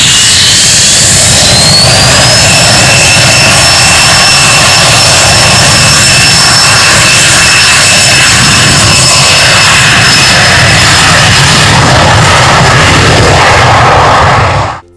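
A Learjet 35A private jet's engines roar loud and steady for the whole stretch, with a high turbine whine rising in pitch over the first seconds and then holding, before the sound cuts off abruptly at the end.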